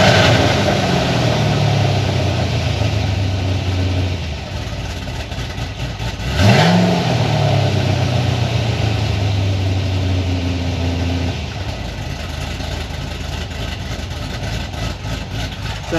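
A car's engine idles steadily through an equal length exhaust with open cutouts, then rises in a single sharp rev that falls back to a deep, loud rumble. The sound is close and continuous, with no talking.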